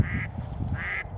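A decoy duck calls during a duck hunt: two nasal quacks roughly half a second apart, close and clear over a quiet outdoor background.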